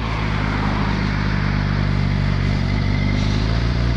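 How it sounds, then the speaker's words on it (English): A motorcycle exhaust rumbles loudly and steadily up close, a deep continuous idle with a throaty low-end growl. "as you guys could hear the exhaust"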